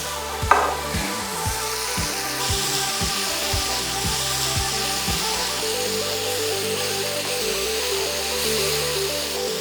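Soy sauce and vinegar are stirred in a pan while making garlic chicken, with a steady sizzle under a series of rhythmic scraping strokes that later settle into a continuous bubbling fry.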